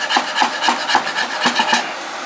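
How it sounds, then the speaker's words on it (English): Hand sanding dried glue off a wooden workpiece: about nine quick, rhythmic back-and-forth rasping strokes, close and fairly loud, with no talking. "we're going to hit it with a little bit of sanding"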